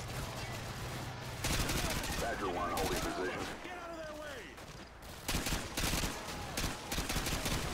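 Modern Warfare 2 video game firefight: bursts of loud automatic gunfire come in repeated clusters, with shouting voices in between and quieter gaps.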